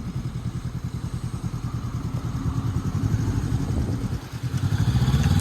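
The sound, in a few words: motorcycle engine started and riding off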